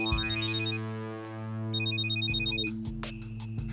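A mobile phone ringtone plays in a Turkish TV drama scene, a loud electronic melody of repeating tonal beeps, a short pause, then the tune resumes with sharper chiming bursts.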